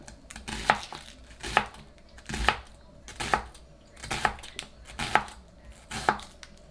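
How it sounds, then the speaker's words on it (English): A knife slicing through an onion on a cutting board, seven evenly spaced crisp chops with a woody knock at each stroke, close and clear with no talking. "And I just slice it."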